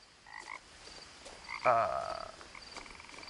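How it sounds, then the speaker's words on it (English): Little frogs croak in the video game What Remains of Edith Finch: a faint, quiet night ambience broken by a few soft calls, then one louder, raspy croak partway through, with no speech. "You can hear little frogs."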